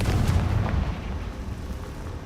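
A Confringo fire spell blast in Hogwarts Legacy, a heavy booming explosion at the start with a deep rumble that rolls and fades over the next couple of seconds.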